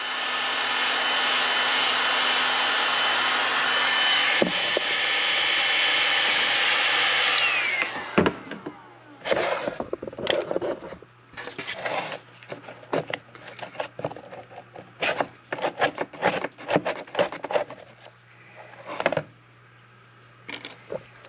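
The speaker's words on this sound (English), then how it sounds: "basically heat this up and then scrape the paint off with the card" A heat gun blows a steady broadband roar for about seven seconds on old paint from a 1985 Honda CR250 barn-find motocross bike, then cuts out, leaving intermittent scraping strokes of a plastic hotel card against the surface.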